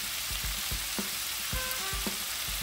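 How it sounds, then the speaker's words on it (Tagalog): Jackfruit and tomato sauté in a pan for ginataang langka, with a soft steady sizzle broken by several scraping stirs and light clanks of the spatula against the pan. "igisa lang natin yung langka at yung ating tomato"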